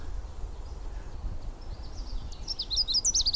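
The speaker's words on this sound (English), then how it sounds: "And a Canada warbler just sang." A Canada warbler sings in a Maine breeding wood, a quick jumbled burst of high chips and twittering notes rising toward the end, fairly distant over low rumbling background.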